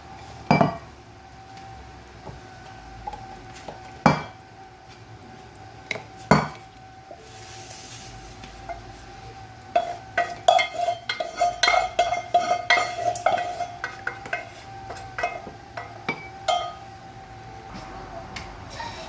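Spoons clink against drinking glasses as food colouring is stirred into candy syrup for homemade halkouma, sharp scattered taps at first, then a quick run of rapid rattling clinks.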